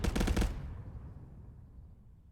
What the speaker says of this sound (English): Let's see if we can find out where these gunshots are coming from.